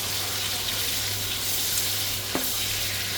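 Onion sautéing in a pan for pinakbet, a broad steady sizzle with a low hum underneath and one brief clink near the end, no speech.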